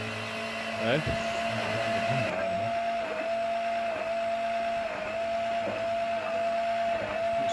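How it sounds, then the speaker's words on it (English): An electric pump runs steadily as it siphons diesel out of a Ford Mondeo ST, giving a continuous whining drone with a faint tonal hum. A voice is heard briefly near the start. "Diesel on an electric pump."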